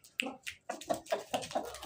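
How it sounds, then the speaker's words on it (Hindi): Finger snapping in a village setting near a hen, a quick series of about seven sharp, close snaps spaced irregularly, faint and alone. "चुटकी मारो"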